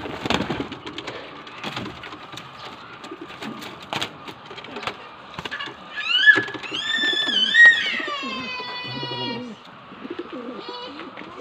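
Pigeon-type Taiwan birds coo in a short rising-and-falling call near the middle, set against clattering movement and rustling around a cage or pen, with some background noise.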